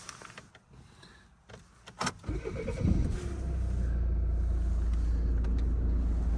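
A car's engine cranks and catches, then settles into a steady low rumble as the vehicle pulls away, following a few clicks and rustles inside the cabin.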